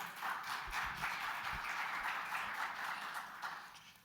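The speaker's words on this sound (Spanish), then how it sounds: "Un aplauso para él," An audience at a university theatre talk applauds to welcome the dean as he comes up to speak, a steady round of clapping at moderate volume from a seated crowd, with a few low thumps underneath.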